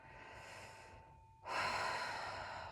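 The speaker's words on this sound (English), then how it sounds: "Let's take one deep breath." One deep breath taken during a guided nervous-system relaxation, a quiet pause followed by a strong close-up breathy rush lasting over a second, alone with no talking.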